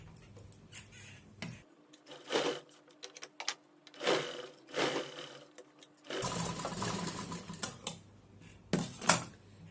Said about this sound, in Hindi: अब इस तरफ भी इसी तरह से सिलाई लगाएंगे।